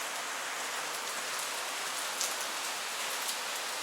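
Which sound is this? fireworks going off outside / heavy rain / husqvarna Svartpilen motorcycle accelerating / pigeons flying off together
heavy rain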